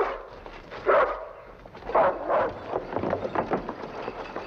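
A dog barks in short bursts and whimpers in an alley, a close, moderately loud sequence of yelps and whines with no speech.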